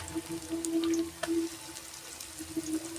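Ginger-garlic paste and onion paste frying in a pan with fried onions, giving a soft, steady crackle and pops with a faint hum behind.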